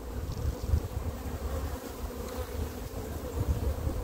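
Honeybee colony at a beehive in early spring, a steady low insect buzz from many bees droning continuously up close with slight swells in level, no voices.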